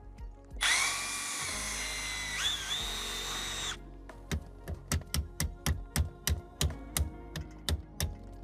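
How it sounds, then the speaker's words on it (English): A drill bores into the button of a Fox Body Mustang ignition cylinder, a loud steady high whine for about three seconds, followed by a rapid series of sharp clicking and tapping hits close by. "I need to drill out more on our button"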